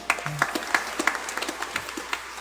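A church congregation at a Christmas Eve Misa de Gallo mass in Quiapo applauds loudly, a steady burst of clapping from many hands filling the space for a couple of seconds.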